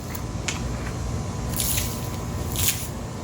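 Water drains and spatters out of a spinning fishing reel in short squishy bursts and drips, close by over a steady background noise, with no talking.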